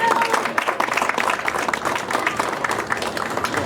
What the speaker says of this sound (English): Join me in giving them one more round of applause.